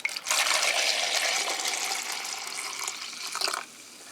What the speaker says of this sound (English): I'm just going to go ahead and keep pouring the water back and forth until everything is in the jar.